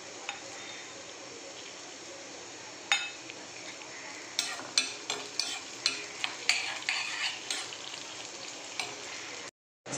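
Urad dal and green chilli fry in a chutney tempering with a steady low sizzle. A spoon stirs and scrapes the pan in a run of sharp repeated clinks, and the sound cuts out briefly near the end.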